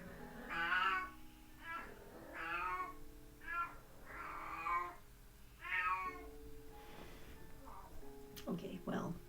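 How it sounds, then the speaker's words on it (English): A house cat meows repeatedly at close range, several drawn-out cries spaced through a room where soft music plays in the background. "And a noisy cat."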